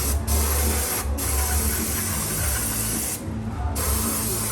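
Aerosol brake cleaner sprays onto RV brake hubs and backing plates as a loud, continuous hiss, broken by a few very brief dips.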